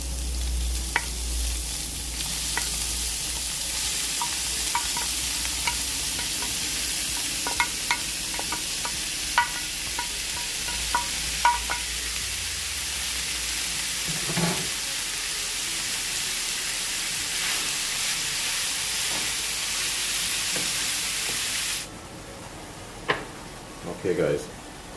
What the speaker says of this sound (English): Next up, you want to add in your ground beef.